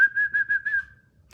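A single steady whistled tone with a slight pulsing warble, close and clear, lasting about a second before fading out.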